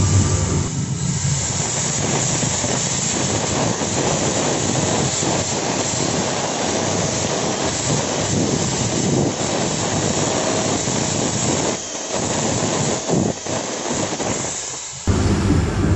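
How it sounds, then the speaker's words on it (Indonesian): A Makita GA4530 angle grinder runs freely after an armature replacement, giving a loud, continuous, fast high-speed whine and roar that holds steady before briefly dipping near the end. "Mesinnya udah normal lagi, putarannya kenceng, normal seperti sedia kala."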